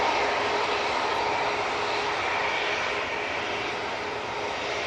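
A Boeing 737 jet takes off at Manchester Airport, its engines a loud, steady, broad roar that holds without a break and fades only slightly toward the end.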